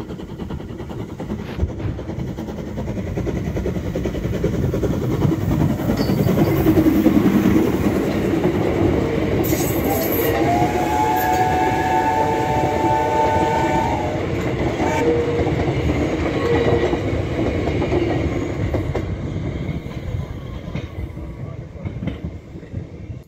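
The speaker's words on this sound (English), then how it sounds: "no video of the Tram Museum is complete without seeing one of the steam trams come by" A 1913 Henschel & Sons steam tram at a tram museum rumbles past close by, its heavy rolling noise steady throughout, with a whistle sounding briefly in the middle.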